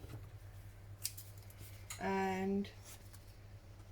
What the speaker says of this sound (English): trim him off, making sure that you don't cut your page